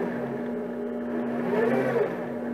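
Whirring hum of a Grizzly G0765 mini-lathe spindle, a steady motor tone that rises slightly in pitch as it speeds up, close and moderately loud with no talking.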